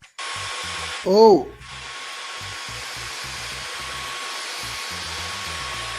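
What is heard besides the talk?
1960s vacuum cleaner running in normal mode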